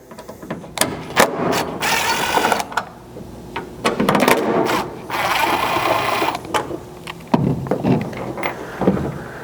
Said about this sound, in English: you want a T15 Torx so that you can remove the 2 screws inside of here